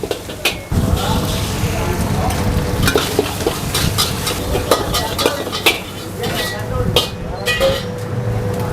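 Nasi goreng kampung, village-style fried rice, is stir-fried in a busy street food stall at night, with loud continuous sizzling and repeated metal spatula scrapes and clanks against the pan, and voices talking at times.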